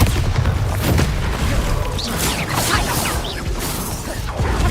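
Repeated Bombarda spell blasts from Hogwarts Legacy, booming and crashing one after another in a dense, loud barrage with sparkling magical crackle over deep rumbling impacts.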